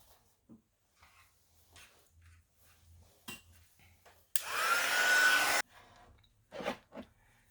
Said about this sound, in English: I'm going to hit the dryer again